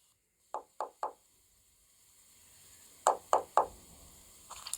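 Knuckles rap on an office door in two bursts of three knocks, crisp and wooden, separated by a short pause, with a faint rustle after.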